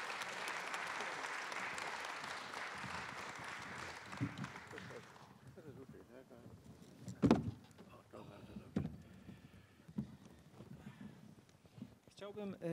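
Live audience at a Polish panel discussion applauds warmly as two professors take their seats, dense clapping for about five seconds before fading into scattered movement and low talk.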